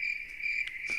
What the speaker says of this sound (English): Let me see if I have crickets chirping.